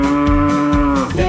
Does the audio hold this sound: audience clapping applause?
no